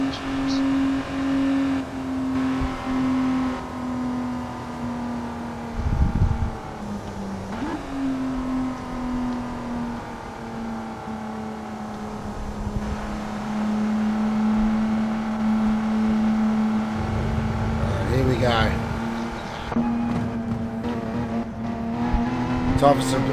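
Porsche Super Cup race cars in a racing game at Kyoto Driving Park, a steady droning engine note that holds and shifts pitch slightly, with someone talking over it throughout.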